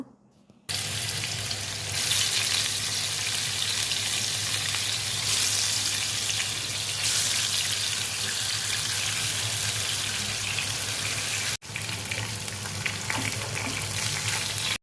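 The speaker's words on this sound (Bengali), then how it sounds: "চুলায় আমি আগে থেকে একটি পাত্র বসিয়ে পরিমাণ মতো তেল দিয়ে রেখে দিয়েছি তো এবার মাছগুলো দিয়ে দেবো" Fish fry in oil in a pan with a loud, steady, close sizzle that begins abruptly and continues for the whole stretch, briefly cut off near the end, with no one speaking.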